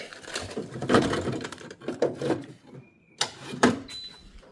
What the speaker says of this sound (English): Slide the induction cooker out.